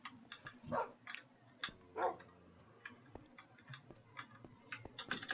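Dogs in the Minecraft video game bark in short game-sound yips, two louder barks standing out among scattered clicking ticks, with no speech over them.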